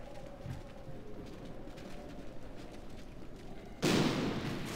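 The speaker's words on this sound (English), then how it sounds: "Trying to stop us with some missile fire" Missile fire during a battle in Medieval II: Total War, a low rumbling din of combat that suddenly bursts into a loud broadband blast near the end, with no speech.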